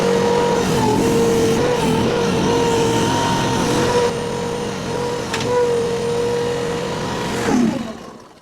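A mini skid steer moves a Chinese rock crusher off a trailer, its engine droning steadily nearby with a tonal hydraulic whine, then it briefly surges and cuts off near the end.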